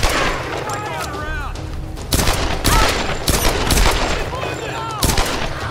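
Rapid gunfire in Tomb Raider Definitive Edition in a shanty town setting, sharp repeated shots and bursts of automatic fire crackling loudly over a busy game soundscape.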